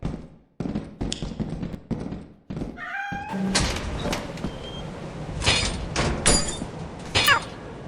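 A cat in Lethal Company lets out a short meow amid heavy thuds, knocks and clattering in-game noises.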